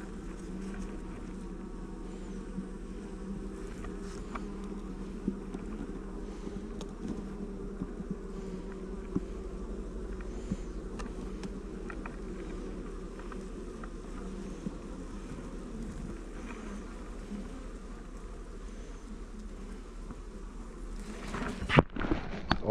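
A swarm of honey bees, recently taken from a bait hive, hums around the hive in a dense, continuous drone. It holds steady near the listener throughout, with a few knocks and a louder burst of handling noise at the end.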